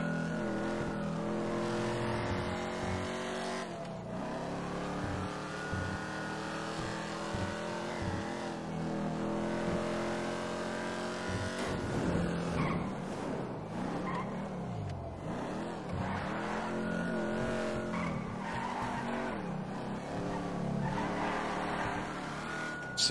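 Car engine in a GTA roleplay police chase video game, revving and shifting through rising and falling pitches with occasional skids, steady and close for the full stretch without speech.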